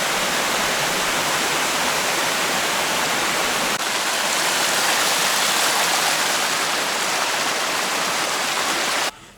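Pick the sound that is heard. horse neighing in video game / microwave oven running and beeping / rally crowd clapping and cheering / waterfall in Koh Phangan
waterfall in Koh Phangan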